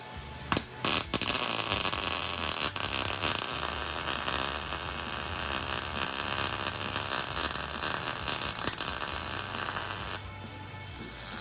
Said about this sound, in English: We're now welding in the windshield frame. One plug weld at a time.